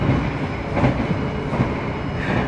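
The Banyubiru Ekspres economy train runs fast, heard from inside the carriage as a loud continuous rumble of wheels and rails with a faint rhythmic clatter.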